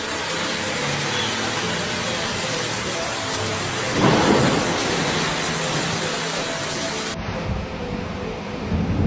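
Heavy rain pours steadily during a violent windstorm in Jakarta, a dense roar of rainfall with gusting wind and a brief surge of louder noise midway, with no voices.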